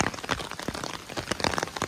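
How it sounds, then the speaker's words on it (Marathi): Heavy, dangerous rain pouring down while people shelter in one spot, a dense steady patter with bursts of louder drumming, close and continuous, with no voices. "खतरनाक पाऊस आहे बघा, घडघडत आहे पण खतरनाक"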